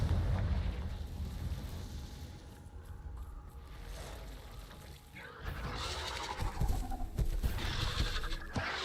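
A Confringo fire curse from Hogwarts Legacy detonates midway as a rumbling, crackling burst. A low, roaring game backdrop runs before it, and the blast's noisy tail carries on to the end at a fairly quiet level.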